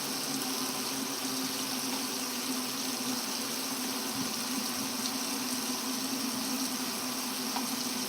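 Hot water poured into a bowl for soaking in a home kitchen, a continuous steady gushing splash that holds at an even level throughout, close and alone.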